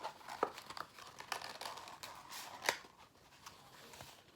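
A paper instruction leaflet for a menstrual cup being unfolded, giving soft close crinkles and papery rustles with a couple of sharper snaps, quiet and with no talking.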